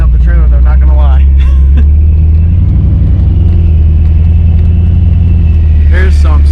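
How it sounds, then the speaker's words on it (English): Steady, heavy road rumble from a vehicle towing a trailer over a rough road, loud and continuous, with voices talking over it near the start and end. "This road's beating up the trailer though, not gonna lie."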